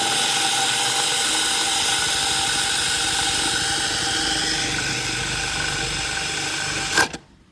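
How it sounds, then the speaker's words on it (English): A small motorized mini drill whirs steadily at high speed on fireplace material, close and loud, then cuts off abruptly with a brief clunk near the end as it binds up. "my little mini drill here is not capable of drilling through this"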